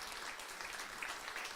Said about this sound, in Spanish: Denle un aplauso al Señor por la vida de Dani